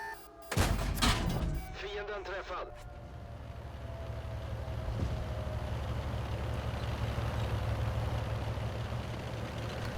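Video game gunfire: a loud burst of rapid shots at the start, then a steady rumbling engine-like drone carries on beneath, with talk heard over it.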